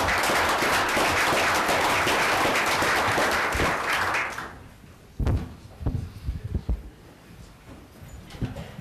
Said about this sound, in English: We applaud everybody for being there